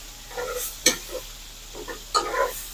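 Steak searing in a very hot pan with butter and garlic, giving a low steady sizzle broken by a few sharp spits and pops and occasional utensil stirring sounds, close by with no talking.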